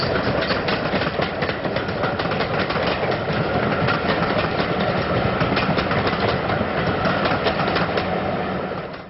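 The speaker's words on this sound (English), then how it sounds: "BR Black Liveried 6990, with its appropriate train of assorted BR Liveried coaches," BR black-liveried steam locomotive 6990 hauling a train of assorted BR-liveried coaches, a steady rolling rumble with rapid rhythmic clatter of wheels on rail, continuous and fairly close.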